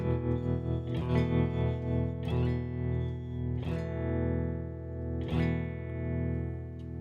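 Electric guitar through a Peavey Vypyr VIP2 amp with a shimmery tremolo effect: four struck chords ring out in turn, each sustaining with a pulsing, wavering swell and a slight echo tail.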